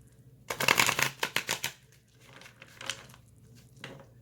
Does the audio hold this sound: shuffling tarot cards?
yes